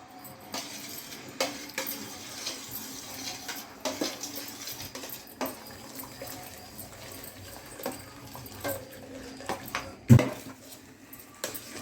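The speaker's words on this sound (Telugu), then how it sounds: "ఇలా బాగా కలుపుతూ ఉండాలి అడుగంటకుండా." Semolina for rava kesari being stirred in a pan, a soft scraping and scuffing of a spoon against the metal with an occasional light clink, steady and quiet at close range.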